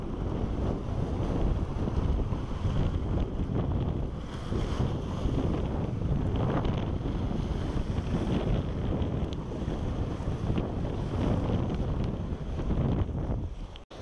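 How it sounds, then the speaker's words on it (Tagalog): Strong, steady wind buffets the microphone on a trout fishing boat, roaring continuously for the whole stretch with water sloshing underneath and no talk. "Yan, lakas ng hangin."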